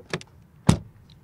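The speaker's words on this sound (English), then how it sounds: "you can also use the keyless entry like this, closing the car" Compact premium SUV locking through keyless entry: two quick mechanical clicks, then a sharper louder lock thunk, with a faint high chirp trailing after, all close and isolated.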